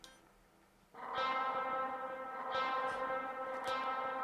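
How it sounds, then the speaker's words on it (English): Electric guitar through a Line 6 DL4 set to its longest ping-pong delay, all wet, swells into a loud, sustained wash of repeating echoes with faint repeated pick attacks bouncing through the trails. "the real secret sauce to this is a Line 6 DL4 set to the world's longest ping pong it'll do without oscillation"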